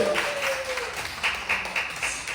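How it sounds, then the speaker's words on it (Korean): A congregation claps at a church service, steady light applause with a few sharper patters rising and falling throughout, moderately close and without talk. "하나님께 영광 돌리는 헵시바에게 힘찬 동료의 박수 다시 한번 부탁드립니다."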